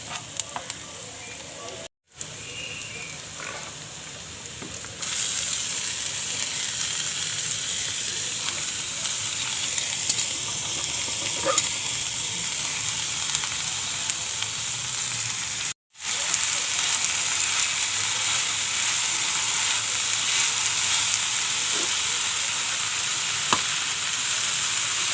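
Grated radish vegetable with softened onion sizzling steadily in a hot pan, a continuous loud frying hiss broken by two brief drops, with faint stirring scrapes underneath.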